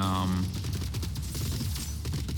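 Rapid blasts from shotgun robots firing in the Gladiabots video game, a dense burst of shots over a short stretch following a brief tonal sound, with gunfire loud and close.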